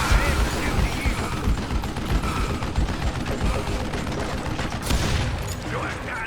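Gunfire in the Western shooter Call of Juarez Gunslinger, a dense continuous barrage of shots and rumble that stays loud throughout, with a voice talking over it.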